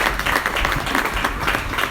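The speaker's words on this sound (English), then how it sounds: "so clap for yourself because it looks like it's only this side that is participating" A conference audience applauding: dense, steady, loud clapping from a large crowd throughout, with no break.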